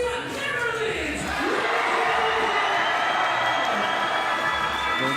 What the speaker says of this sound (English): Who here is cheering for Team Serbia? Let me hear you loud.